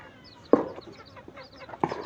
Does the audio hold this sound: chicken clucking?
yes